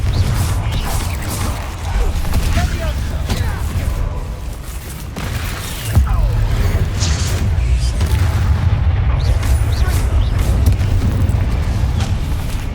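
Confringo blasting spell explosions in the video game Hogwarts Legacy, loud rumbling booms over continuous heavy combat noise, with a sharp impact near the middle.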